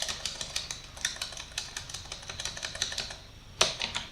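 Steady, rapid computer keyboard key presses, including repeated backspace taps deleting text, close and crisp, with a brief pause before a final sharper burst of clicks.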